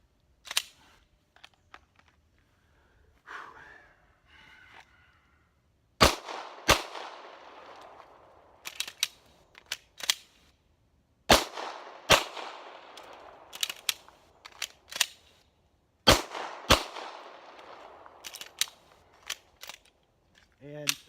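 Handgun shots from a shooting drill on a range, fired in quick sharp bursts of two or three with short pauses between, loud and close, ending with a clatter of echoes.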